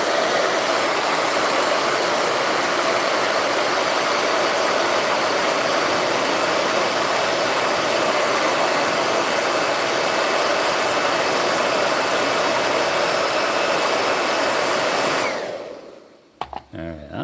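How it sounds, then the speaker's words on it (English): A hair dryer blows steadily and loudly at close range for about fifteen seconds, a constant broadband whoosh with a motor hum underneath, then cuts off abruptly, leaving near silence with a few small handling noises. "I'm going to blow dry that real quick for your guys' viewing pleasure"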